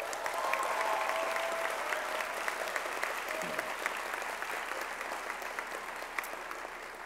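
Sustained applause from a large audience at the 2018 College of Idaho convocation ceremony, dense and steady throughout with a slight fade toward the end.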